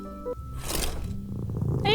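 A cat purrs in the puzzle video game A Little to the Left, a soft rumbling purr mixed with other game tones and brief vocal-like sounds.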